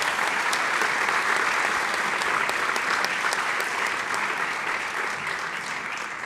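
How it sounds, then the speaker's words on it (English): A chapel crowd at a school gathering gives a round of applause, dense even clapping from many hands filling the room, holding steady before easing a little toward the close. "and a little round of applause, please."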